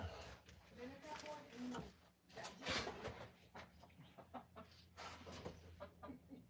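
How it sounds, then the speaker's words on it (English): Chickens cluck in a garage, their calls rising at intervals amid shuffling and clatter while people talk over them. "Oh my God, I got chickens in the garage"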